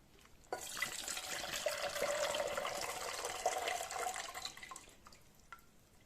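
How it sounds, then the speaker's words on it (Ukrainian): Hot marinade is poured off from jars of diced overgrown cucumbers being preserved for winter, a continuous close splashing stream of liquid for about four seconds that starts abruptly and tapers off. "Далі маринад слід злити."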